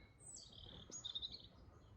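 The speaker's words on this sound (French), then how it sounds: "Un petit oiseau qui nous chante le bon retour chez nous" A small bird sings a faint, high chirping phrase in the distance over a soft outdoor hiss of wind and ambience, on high ground above Chasselay, France.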